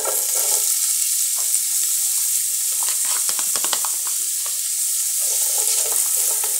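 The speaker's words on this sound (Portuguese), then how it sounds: "Vou colocar a cebola." Chopped onion hitting a hot frying pan already holding chicken, potato and carrot gives a steady, close hiss of frying with faint stirring scrapes, and no talk over it.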